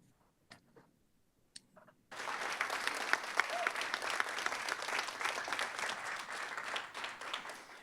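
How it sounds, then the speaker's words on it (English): A room full of people at a lunch-and-learn gathering bursts into sustained applause after about two seconds of near quiet, the dense clapping staying loud and steady to the end. "I don't know if you gentlemen can hear the applause in the room."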